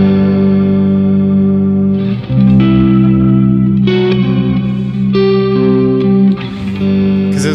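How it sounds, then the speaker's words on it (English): Electric guitar played through an effects pedal with modulation, reverb and octave, sustained chords and notes that swell, shift and ring out with washy, chorused tails, loud and alone. "So it's modulation, it's reverb, it's octave, it's yeah."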